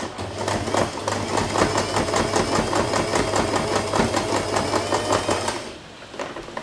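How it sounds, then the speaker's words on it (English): Sewing machine stitching fabric for a bow center piece, a steady rapid mechanical clatter with a low motor hum, running close and continuous for several seconds before stopping, no talking over it. "There's always a backstitch on your sewing machine."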